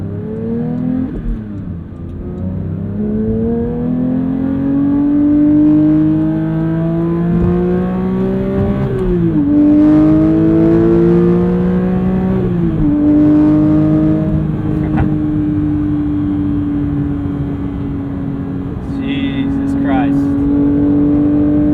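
A Porsche 992 911 GT3 with a manual gearbox drives at speed, its engine droning loud and close, rising in pitch through gears with audible shifts, while someone talks over it.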